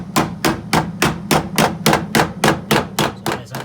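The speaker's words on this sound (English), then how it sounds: "So I'm just going to cut a small section out of there and patch that in." A steel car body panel on a Toyota Glanza being cut into in a workshop gives off about a dozen sharp, evenly spaced metallic strikes in a steady rhythm, close and loud.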